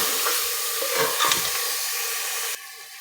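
Turnip salan sizzling and frying in a pan, with a steady crackling sizzle and occasional stirring scrapes. The sizzle drops abruptly near the end.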